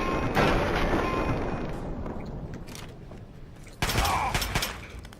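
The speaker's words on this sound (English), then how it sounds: "I guess that explosion deals a little bit of damage" Gunfire and an explosion in the video game Fallout 3: a loud burst of shots and a boom at the start that fades, then another sharp burst of fire near the end.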